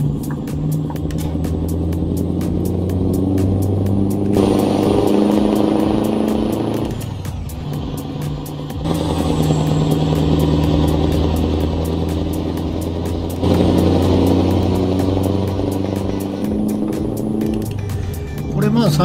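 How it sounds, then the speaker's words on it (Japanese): A deep truck engine in Euro Truck Simulator 2 rumbles and revs through gear changes on a paved road, rising and falling in pitch, with someone talking over it at times. "自分がね、エンジンの音を決めといて、こんなにいい音やと思ってなかったですけど"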